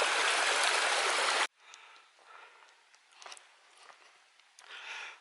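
Stream water rushes loudly and steadily near a waterfall among Canary pine trees on Tenerife, then cuts abruptly to a much quieter trickle and gurgle with faint dribbles and splashes, swelling slightly again at the end.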